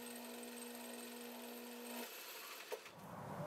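A metal lathe facing off the end of a part, a steady machining whir with a high tonal whine that cuts off about two-thirds through, followed by a brief clunk and quieter shop noise.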